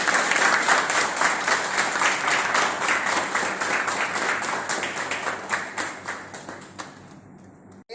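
Audience applause at a school alumni and teachers' event, dense and steady clapping from a sizable crowd that stays loud for several seconds before tapering off and stopping near the end.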